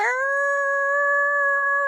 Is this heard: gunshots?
no